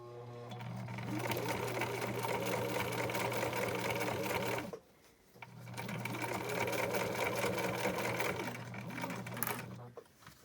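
Sewing machine stitching the thick fabric layers of a water bottle sling, a fast steady mechanical whir that stops briefly midway and then resumes.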